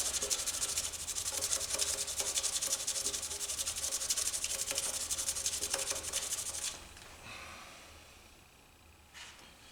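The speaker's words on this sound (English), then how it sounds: "you can just sand with the micro mesh radially" Micro mesh abrasive rubbing against a spinning fountain pen blank on a lathe, a steady close rasping scrub that stops after several seconds, leaving the softer whir of the lathe.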